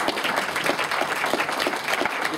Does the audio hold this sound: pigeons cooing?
no